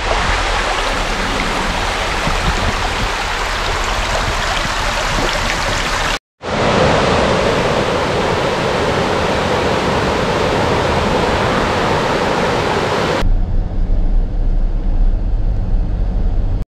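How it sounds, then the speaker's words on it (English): Steady rushing water from a small stream tumbling over rocks and little rapids in the Great Smoky Mountains fills the clip, with a brief dropout partway through, then continues with slightly duller tone. "there's a little stream next to us with rippling water going over the rocks, little rapids"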